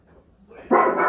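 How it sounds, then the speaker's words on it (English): After a brief quiet lead-in, a single loud dog bark bursts out and rings for a moment, played through a smart speaker. "what does a dog sound like?"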